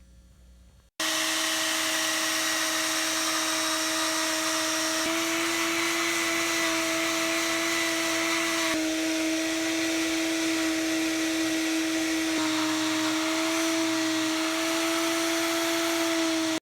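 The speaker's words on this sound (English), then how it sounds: "Conditioned all the leather, vacuumed the carpets, wiped everything down." A vacuum cleaner runs steadily and fairly loud through the carpets of a 1967 Mustang's dusty interior, with a constant motor whine that shifts pitch slightly a few times as the nozzle moves.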